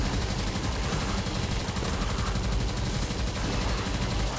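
Continuous gunfire with fire bullets in the video game Tesla Vs Lovecraft, a dense, loud wash of rapid shots running steadily through the whole stretch with no pauses.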